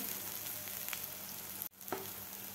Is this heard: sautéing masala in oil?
yes